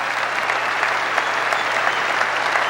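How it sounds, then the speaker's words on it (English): Audience giving a warm round of applause for a team member, dense steady clapping that fills the room without pause and with no voices over it. "Give him a super duper round of applause."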